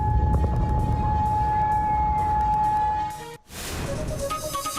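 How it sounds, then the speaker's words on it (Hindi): Air raid sirens sounding in Kuwait during an attack on US bases, a steady sustained wail over a dense rumbling background, then a brief drop before noisy sound returns. "लेकिन जो सायरन बज रहे हैं वो लोगों में खौफ पैदा कर रहे हैं"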